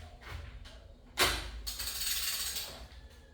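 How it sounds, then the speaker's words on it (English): A digital torque wrench tightens bolts on a VQ37VHR engine being built, giving close mechanical ratcheting clicks and a grinding, creaking turn that swells and fades over a few seconds. "So we'll use a torque wrench on, digital one"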